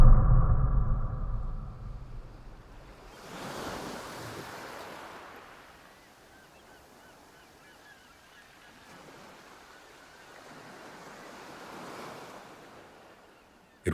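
Ocean waves surge onto a beach in slow, broad swells with a low rumble, each rising and fading over several seconds, heard at moderate distance with a heavy, loud rush at the start.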